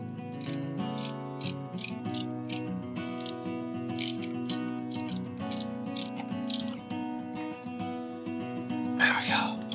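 A ratchet works a bolt with washers on a motorbike, giving rapid repeated clicking bursts in an even rhythm at close range, with a faint voice toward the end.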